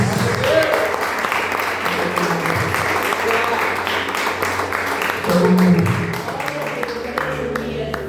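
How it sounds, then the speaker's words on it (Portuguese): A church congregation claps and applauds for Jesus during a Portuguese-language sermon, a steady moderate wash of clapping with a voice and some tonal sounds mixed in throughout. "Dê uma salva de palmas para Jesus."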